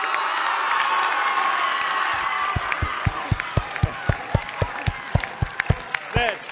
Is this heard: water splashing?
no